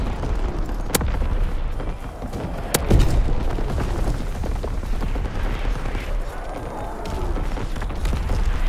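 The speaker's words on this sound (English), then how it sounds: "Artillery ready for orders, awaiting coordinates. Firing for full effect." An artillery strike and gunfire fill a Call of Duty WW2 battle with a dense, continuous roar, broken by two sharp, loud blasts near the start.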